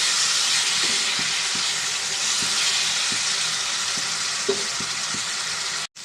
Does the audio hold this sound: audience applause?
no